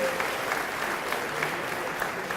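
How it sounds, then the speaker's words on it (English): Steady applause from an audience at a high school athletic banquet, a dense even wash of clapping heard from a moderate distance, with faint murmuring underneath. "Please give these kids a round of applause."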